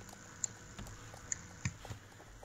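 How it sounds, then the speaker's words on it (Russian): Rain falls in the horse-riding video game Star Stable Online as a soft, steady hiss with faint scattered patters, low in level and with no talk. "Да, дождь пошел."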